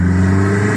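A forged-turbo Audi A3 engine revs in second gear with a loud, close, steady droning tone that sustains for under a second.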